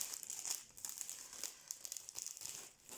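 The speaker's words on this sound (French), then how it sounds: "Ah, le plastique qui se déchire tout." Plastic packaging from a mystery diamond painting kit tears and crinkles in a steady run of crackly rustling up close, with no voices over it.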